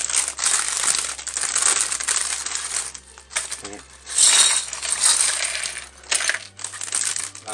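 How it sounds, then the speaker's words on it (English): Plastic bags from a Snowspeeder building kit crinkle and crumple up close, loud and dense, in long continuous bursts with a few brief pauses and no talking. "Warning to those who are sensitive about crinkling bags."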